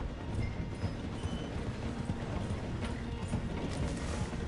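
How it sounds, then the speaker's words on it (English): Steady rumble and clatter of a steam train in Red Dead Redemption 2, with galloping horse hooves drumming alongside as it slows near a station; continuous and loud with no talk. "The train is slowing down to go through the station."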